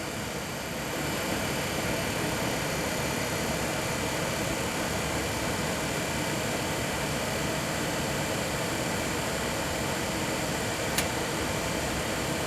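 A Suburban SFV-35FQ RV furnace with an ignition fault starts up as a loud, steady roaring whoosh that fills the whole stretch, joined by a single faint click near the end.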